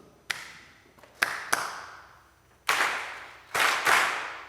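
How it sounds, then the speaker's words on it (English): An audience claps in call and response with soloists during practice at a meetinghouse concert, short sharp single claps followed by louder bursts of group clapping. "The soloists and you will do a call and response clap."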